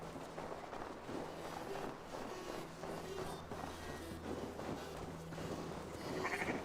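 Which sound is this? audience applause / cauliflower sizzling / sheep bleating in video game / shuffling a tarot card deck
sheep bleating in video game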